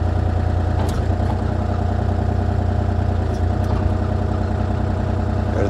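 A hydraulic machine runs through its clamping function, giving a steady, loud mechanical drone and hum with a few faint clicks over the top.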